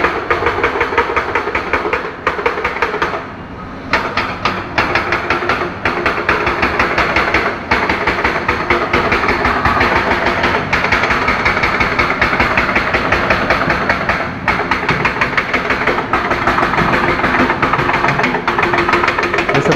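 Excavator engine working at midday in Lembah Anai, West Sumatra, after a flood; a loud, continuous diesel drone with rhythmic knocking, a short dip near the start, with no voices.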